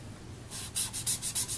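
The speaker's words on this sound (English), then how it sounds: "I'm going to use the chisel nib, see if I can get a better swatch here." A Copic marker chisel nib rubs across textured watercolor paper in a series of about six quick, close scratchy strokes, following a brief quieter pause.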